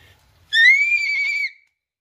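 A child imitates a horse's neigh with a single sustained, high, whistly whinny lasting about a second, close and clear against a quiet background.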